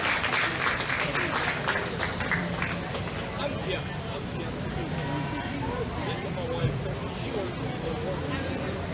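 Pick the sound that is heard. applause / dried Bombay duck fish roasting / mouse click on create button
applause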